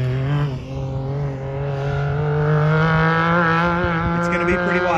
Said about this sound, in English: So while Wes is out taking a couple laps in his old unit